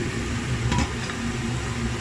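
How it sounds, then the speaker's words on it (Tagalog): A pot of spaghetti sauce simmering on the stove gives a steady, close bubbling and sizzling hiss, with one brief clink near the middle and no talk. "Yan, kumukulo na."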